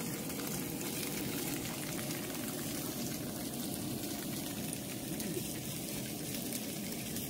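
Tofu pancake frying in a pan for breakfast, a continuous dense sizzle and crackle of hot oil, steady and close without pauses.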